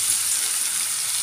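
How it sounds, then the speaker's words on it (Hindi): Fennel seeds sizzle in hot oil while tempering for a bitter gourd curry, giving a loud, steady crackling hiss up close. "सौंफ में अच्छे से तड़का लग गया है।"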